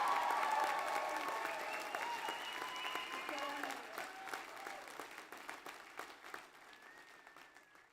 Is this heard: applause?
yes